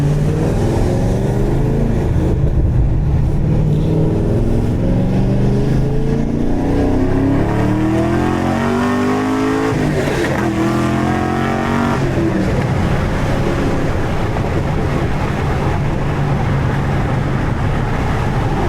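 A cammed Camaro Z/28 with a worsening exhaust leak drives steadily, its engine note loud and continuous throughout, with rising and falling pitch as it accelerates and shifts.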